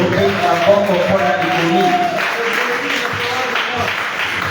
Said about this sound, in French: Acclamons très fort pour la citation.